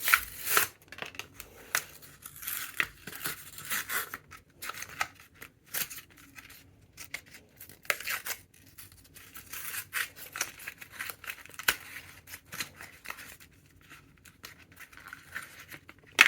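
Close, irregular bursts of crinkling, snipping and tearing as a package of Traxxas T-Maxx rebuild parts is opened, packaging rustled and ripped in uneven spurts with brief pauses.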